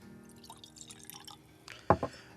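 Michter's single barrel rye whiskey poured into a glass, a soft trickling stream followed by a couple of distinct drips and clinks, quiet and close.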